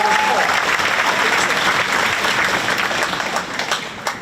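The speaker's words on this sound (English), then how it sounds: "Let's give them all a round of applause." A school spring concert audience applauds performing students, loud close clapping that starts at full strength and gradually tapers over about four seconds, with a faint voice briefly audible underneath.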